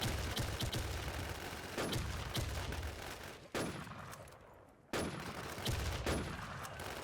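Sniper rifle shots crack in a video game, several sharp reports at irregular intervals, the two heaviest near the middle with echoing tails, amid busy background game noise.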